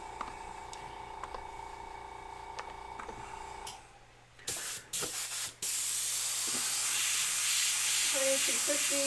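Airbrush spraying paint onto a skull flag: a steady airy hiss runs throughout, with a brief pause and sputtering bursts midway before a louder continuous spray resumes.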